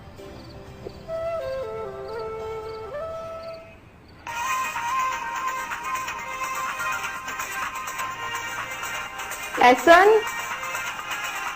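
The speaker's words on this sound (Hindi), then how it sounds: "एहसन, फोन बज रहा है तुम्हारा।" A phone ringtone plays a melodic tune, then a louder electronic ringing continues while someone speaks over it.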